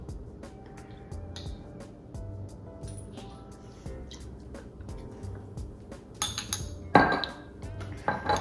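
A spoon scrapes and clinks against the inside of a mug while stirring mug cake batter, with quiet rhythmic taps and a few sharper clanks near the end, no talking.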